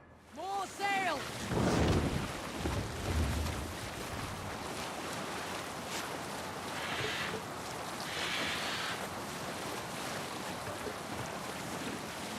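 A sailing ship moving across open sea in Assassin's Creed Valhalla, with a steady wash of waves and wind over the hull, a brief tonal call near the start, then continuous moderate rushing water and breeze.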